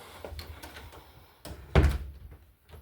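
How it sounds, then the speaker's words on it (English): A door is blown open by the wind indoors, giving a few soft knocks followed by one louder, close thunk and a brief rattle before it quiets. "the wind opened the door"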